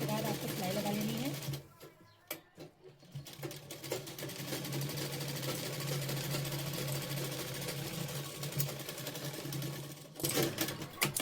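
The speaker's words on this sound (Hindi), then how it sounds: "फिर इसके बाद आपको सिलाई लगा लेनी है।" A sewing machine stitches blouse pieces with a steady, close mechanical whir. The whir pauses briefly twice, and a voice can be heard at times.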